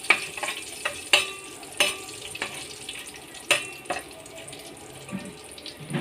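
Onions frying in oil with biryani masala for a large batch of egg biryani, soft sizzling under sharp, irregular clinks and scrapes of stirring, fairly quiet and close.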